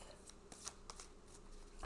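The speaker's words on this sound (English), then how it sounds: "We'll give it a couple more shuffles" A deck of cards is shuffled close by, quiet riffling bursts with soft slaps and flutters repeating over a couple of seconds.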